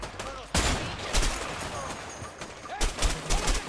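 Gunfire in the video game A Way Out: two loud bursts of rapid shots, one early and one near the end, with a quieter gap of scattered noise between them.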